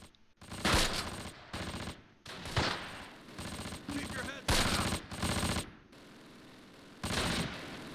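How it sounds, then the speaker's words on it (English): Infantry small-arms fire in the Close Combat wargame, with repeated bursts of machine-gun and rifle fire coming in loud clusters with short gaps, some sounding close and some farther off, and no talk. "We're being shot at by the infantry."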